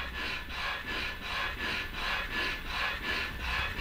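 An automatic nail clipper made for amputees files away at fingernails with a soft, close rasping buzz that swells and fades in a steady rhythm about four times a second.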